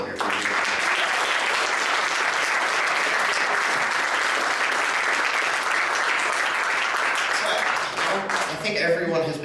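An audience at a concert bursts into loud, sustained applause, dense clapping that continues at full strength, with a voice speaking over it near the end.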